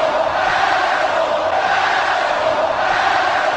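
Sustained heckling from a large crowd inside the All-State Arena, directed at the general manager, a dense unbroken roar of shouting voices at a constant loud level.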